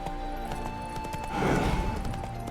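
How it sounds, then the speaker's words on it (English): A spooked horse in The Witcher 3 game, with hoof clip-clop and a whinny rising over steady ambient game sound and music, brief and fairly close. "Spooking my horse."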